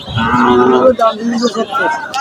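Cattle at the Narayanhat cattle market in Fatikchhari, Chattogram, give a loud, close, drawn-out moo followed by shorter lowing calls.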